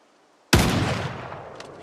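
A single loud gunshot in the Project Zomboid survival game cracks out of near silence, its sharp broadband burst trailing into a sustained noisy decay for over a second.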